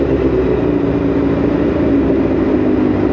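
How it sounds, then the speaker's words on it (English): A motorcycle engine roars loud and continuous inside a tunnel, its deep, steady growl made fuller by the echo, with no voices. "Rev bomb is mandatory in a tunnel, you have to."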